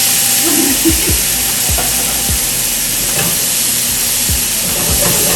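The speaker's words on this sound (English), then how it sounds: "Oh, for the sizzle." Food sizzles and hisses loudly in a hot pan, a steady bright crackle with repeated low scraping clunks of stirring throughout.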